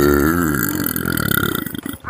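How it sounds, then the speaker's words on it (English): A loud, drawn-out burp after eating queso, a single rumbling belch that wavers and breaks up toward the end, heard up close with no talking. "Look at the queso burps."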